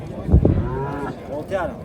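A calf at a livestock bazaar moos nearby in a couple of drawn-out wavering calls over a murmuring crowd background.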